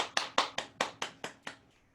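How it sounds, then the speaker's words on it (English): Clapping as a speaker at a talk is welcomed: about eight sharp, evenly spaced claps that fade toward the end, faint and distant, with no talking. "Help me welcome Teresa Rodriguez with a good round of applause."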